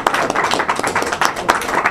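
A small audience at a corporate presentation claps for a senior vice president, loud close distinct hand claps in an uneven rhythm, fairly sparse rather than a dense roar.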